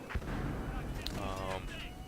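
A grenade blast in Battlefield Hardline's Heist mode, a heavy low boom near the start that rolls into a dense rumble of battle noise, with a voice faint in the mix.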